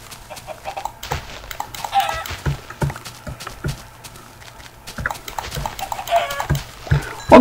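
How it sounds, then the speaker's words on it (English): Chickens in the Minecraft video game cluck in short, scattered bursts over a quiet background, with a few soft footstep-like taps mixed in. "What you got to kill three chickens?"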